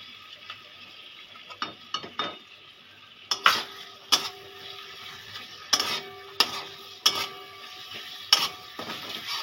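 Spice paste and potatoes frying in a pan for a Bengali fish curry, a soft steady sizzle broken by repeated sharp scrapes and clinks of a utensil stirring against the metal, fairly faint with no talking.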